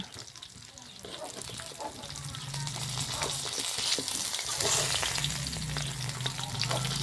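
Fish frying in a pan sizzles steadily and grows louder as it is flipped over, with scraping and stirring noises over the hiss, close up and continuous.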